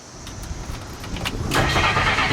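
A 1962 Ford Galaxie police car engine cranks and catches, the starter's rough churn giving way to a louder, steady mid-pitched running rumble up close with no talking.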